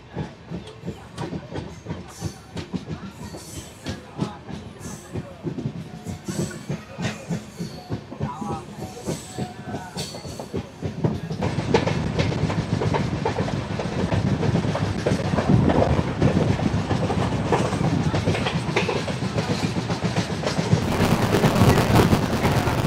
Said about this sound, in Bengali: সিগন্যাল হয়ে গেছে, ট্রেনও ছেড়ে দিয়েছে আর উঠে পড়েছি ট্রেনে।